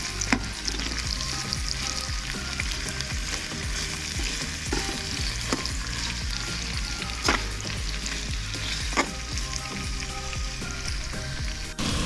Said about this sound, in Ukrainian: Цибулечка підсмажується.